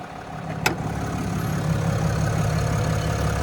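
A 6.7-liter Cummins turbo diesel in a 2024 RAM 2500 Limited Night Edition idles steadily with a low, even rumble, close by and alone apart from a brief click near the start.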